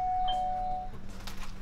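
A doorbell chimes at a house during a backyard barbecue, a clear two-tone ding-dong ringing out and fading, followed by faint room noise.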